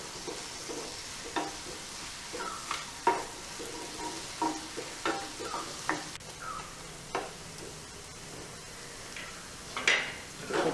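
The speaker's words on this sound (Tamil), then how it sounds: "இப்போ நம்ம அதை எடுத்து நல்லா கலந்து விடலாம்." Tomato rice being stirred and sautéed in a pan, with a sequence of scraping, clinking stirring strokes over a steady low sizzle, at a moderate, close distance and with no talking.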